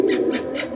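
A pigeon coos close by in a low, rolling rhythm of about three soft pulses, alone with no talk.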